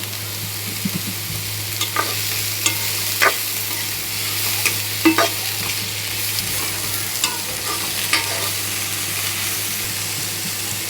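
Garlic frying in oil for onion chutney, a continuous sizzle broken by repeated spatula scrapes and taps against the pan, with a low steady hum beneath, no talking.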